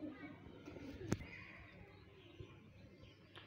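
A Ferozpuri pigeon, a female, coos softly and faintly against a quiet, noisy background.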